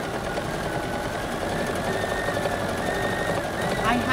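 A sewing machine stitching down the raw edges of fabric appliqué, with a continuous rapid mechanical chatter running steadily throughout and a voice talking over it.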